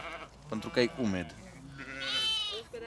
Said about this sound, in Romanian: asta e un miel fătat de 10-20 de minute